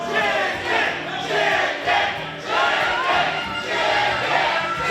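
A wrestling crowd at an MWA live event getting fired up, a loud, sustained roar of cheering and yelling from many voices that swells and dips in waves.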